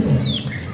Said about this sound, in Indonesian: Itu lomba burung berkicau.